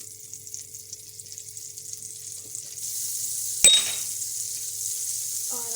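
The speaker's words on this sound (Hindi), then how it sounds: "अब मैं इसी फ्राई पैन में अपना बाकी का मक्खन डालूँगी" Butter melts in a frying pan with a quiet hiss that grows into a fuller sizzle, marked by one sharp clank of a utensil against the pan partway through.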